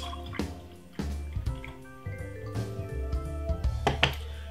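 Homemade alcoholic Malta punch is poured into a glass, heard as close, uneven drips and splashes of liquid with a few sharper splats over about four seconds.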